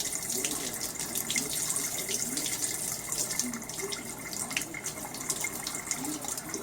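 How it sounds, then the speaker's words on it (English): Tap water runs steadily into a pot of potatoes at a kitchen sink, a continuous close splashing gush with no talking. "I'm gonna put fresh water in."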